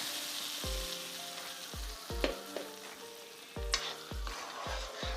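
Papaya pieces sizzle in ghee for a halwa while a spoon scrapes through the pan in regular strokes about once a second, close and continuous with no talk.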